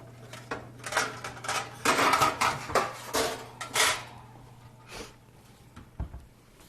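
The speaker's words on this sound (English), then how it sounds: "let me get my baking sheet out" A stainless steel baking sheet is pulled out in a home kitchen, with a cluster of metallic clattering, scraping and knocking sounds over several seconds, ending in a single sharp clank.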